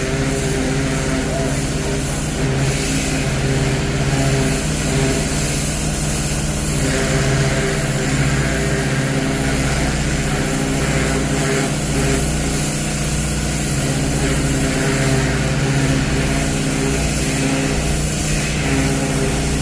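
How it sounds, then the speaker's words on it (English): A pressure washer blasts the dirty underside of a lifted pontoon boat at a haulout, a steady loud hissing spray over a continuous low engine hum that runs unbroken throughout. "So the noise is because they're power washing this pontoon boat."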